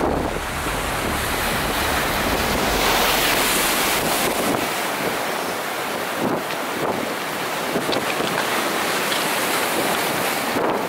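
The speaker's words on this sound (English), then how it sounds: "20-something mile winds, water over the jetty everywhere" Strong wind of twenty-odd miles per hour buffets the microphone at a jetty while waves crash and wash over the rocks. The roar is constant and loud, with broadband surges of surf throughout.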